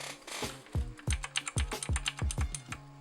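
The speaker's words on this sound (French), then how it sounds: "mon clavier c'est un Black Widow Ultimate" Typing on a Razer BlackWidow Ultimate mechanical keyboard, with a quick irregular run of loud, clacky keystrokes close by.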